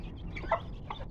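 Chickens give soft, brief clucks at a farmyard among ducks and turkeys, a short call standing out over low background noise.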